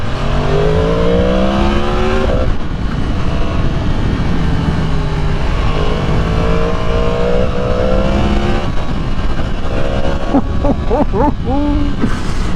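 A 2023 Yamaha MT-10 supernaked motorcycle with a race-bike-derived engine revs and accelerates loudly, its harmonic engine note rising in pitch through several gear changes, steady and close throughout.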